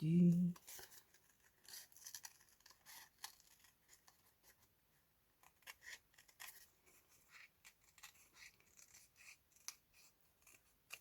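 Scissors snip through round craft paper shapes while making pocket embellishments, a run of short, crisp cuts and rustles spread across the clip, with a brief voice at the start.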